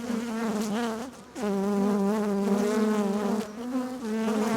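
Honey bees drone steadily at an opened hive, a close, loud, continuous buzz with harmonic layers that dips briefly near the second mark and then swells back.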